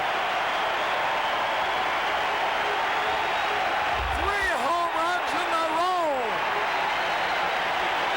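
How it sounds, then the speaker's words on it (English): A packed baseball stadium crowd in 1987 roaring and applauding after a third home run by Andre Dawson of the Cubs, a sustained loud wash of cheering with an announcer speaking over it. "The crowd is wild."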